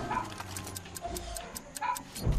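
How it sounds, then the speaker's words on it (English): A dog in the video game Far Cry 5 barks a few times in short bursts amid game effects and background noise, moderately loud. "Alright, he's barking."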